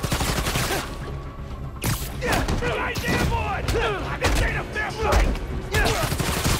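Gunfire from enemies in Spider-Man: Miles Morales on PC, a run of sharp shots and thuds through the clip, mixed with game effects and a speaking voice.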